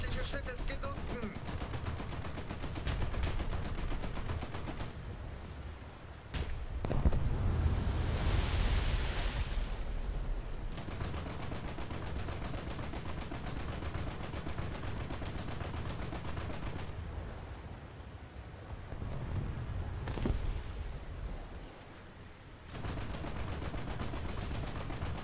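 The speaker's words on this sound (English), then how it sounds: "Just gonna keep on shooting him" Naval guns firing in a German coastal ship battle game, with repeated heavy booming salvos and a rushing roar throughout, plus continuous rumbling.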